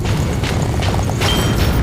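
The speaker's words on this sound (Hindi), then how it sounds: "गाइस, ये असली फायरवर्क्स है, ना कि प्रॉप्स।" Real fireworks bursting outdoors produce loud, low booms with a dense rumbling wash and a few sharper pops layered close together, continuous and heavy throughout.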